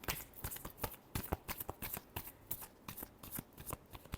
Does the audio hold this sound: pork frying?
no